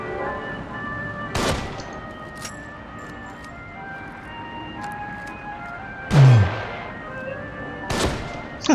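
Sparse gunfire from The Evil Within survival horror game: a few sharp isolated shots, one heavier booming report near the middle and another toward the end, over a steady bed of droning game ambience, no talk.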